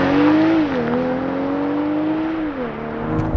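BMW M340i xDrive sedan with a turbocharged inline six launching hard, engine note climbing steadily, dipping briefly at a gear change and rising again, loud and close throughout with no talking.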